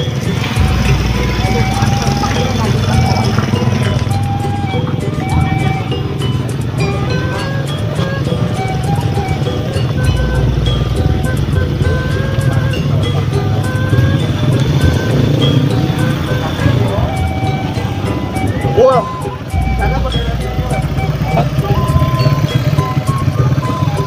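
Cars of a village wedding procession in Pasir Cau, Cianjur, arrive with a steady low engine rumble that runs the whole time, mixed with nearby chatter and background music.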